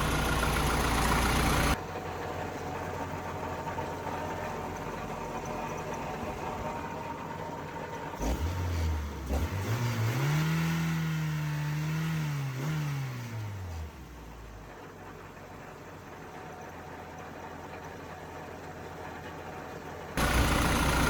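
An Acura Integra engine with a slightly loose alternator belt idles steadily at a fast idle above 1500 rpm, then rises into a brief rev in the middle before settling back to a low, even hum.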